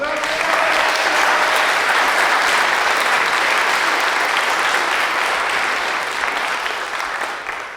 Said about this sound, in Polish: Gromkie brawa!